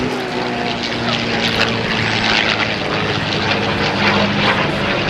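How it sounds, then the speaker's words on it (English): A powerful liquid-cooled V12 piston aircraft engine drones steadily and loudly at an air show, a continuous deep roar with a rough, throbbing texture. "let's listen to the different sound of this engine, this liquid-cooled V12."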